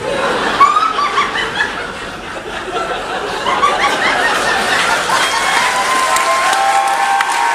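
Applause from an audience aboard the JoCo Cruise mixes with scattered chuckles and laughter, starting moderate and swelling louder in the second half, continuing steadily to the end.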